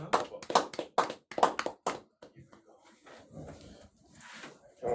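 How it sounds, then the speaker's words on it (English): A small group claps for Quincy Hooper in short, sharp bursts that fade after about two seconds, leaving quieter chatter and voices in the room. "Let's give a round of applause for Quincy."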